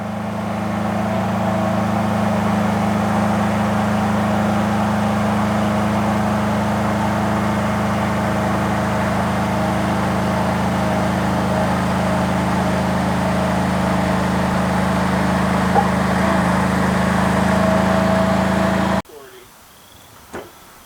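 A Palazzani TZX 550 55 ft compact tracked spider lift lowers its boom with a steady, loud mechanical drone that holds evenly for about nineteen seconds, then cuts off abruptly, leaving brief quiet clatter.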